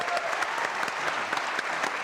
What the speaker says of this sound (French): Applaudissements pour ce jeune homme gaillard.